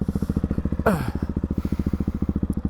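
Ducati Hyper 698 S1 single-cylinder motorcycle fitted with a Hyper exhaust idles with a steady, even low thumping pulse, with a short rising blip near the start, close up.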